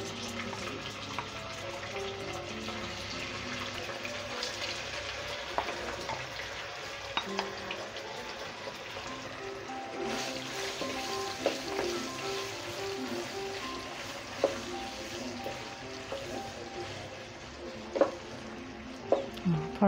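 Minced meat for aloo keema sizzles in a pan with a steady, close frying hiss. Occasional clinks and scrapes of stirring rise above it, and no one speaks.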